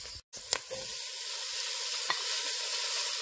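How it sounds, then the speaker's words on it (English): Garlic sautéing in a pan for beef kaldereta, a steady even sizzle close by that follows a couple of brief clanks at the start, with one faint tap partway through and no talking. "Saute lang natin ng konti."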